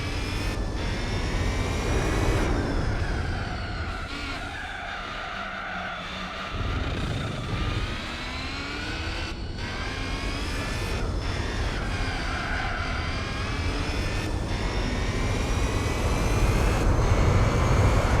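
In Gran Turismo 4, a race car's engine revs hard as the throttle goes down, a loud rising and falling whine with gear shifts and brief tire squeal, continuous and close.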